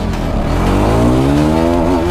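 Hero Xtreme 250R motorcycle engine revving loud and close in first gear, its pitch climbing steadily as it accelerates hard, with no talk over it.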